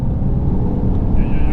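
A Peugeot 407 Coupé engine drones smoothly while driving, a steady low hum from inside the cabin that holds an even, linear tone beneath a voice talking over it.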